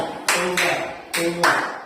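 Pupils in a classroom clap a four-count rhythm pattern led by the teacher, delivering two crisp pairs of group claps that ring out close and loud with brief gaps between them.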